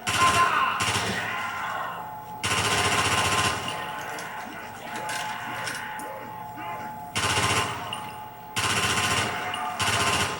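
Machine gun fire in a video game, loud sustained bursts of rapid automatic shots separated by quieter gaps.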